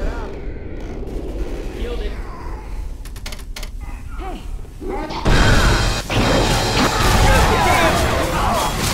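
Dense bursts of gunfire from players shooting zombies in Left 4 Dead 2 erupt loud and close, a sharp crackle of shots giving way to sustained rapid firing, with voices talking over the action.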